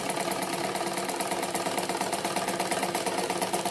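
A sewing machine runs steadily while stitching the front panel of a bra-cut blouse, giving a fast even mechanical whir with a regular needle rattle, close and unbroken for the whole stretch, no speech.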